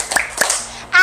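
A classroom teacher and children do a concentration clapping rhythm, tepuk konsentrasi. Two distinct close hand claps are followed by a voice starting to speak.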